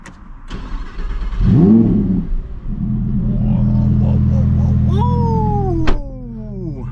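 A 2025 Lamborghini Huracan Tecnica V10 fires up in Corsa mode: a short starter whir, a loud bark, then a deep steady idle rumble with blips that rise and fall, close up.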